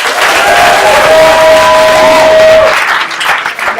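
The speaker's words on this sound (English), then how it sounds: "Big round of applause" Theater audience at an improv show breaks into loud applause with a whistle and cheers rising over the clapping, close and full for a few seconds before easing.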